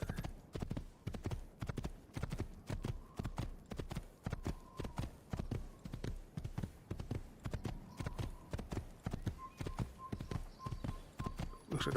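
Steady clip-clop of horse hooves at a brisk trot in Assassin's Creed, a rapid continuous rhythm close by, with faint background tones underneath.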